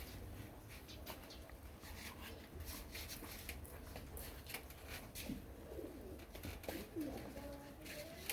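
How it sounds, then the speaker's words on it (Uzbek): A pigeon coos softly amid rustling and flapping-like scuffs over a noisy outdoor background, faint and close, with a few low coo notes near the end. "ammo yomon o'ynayapti kaptar"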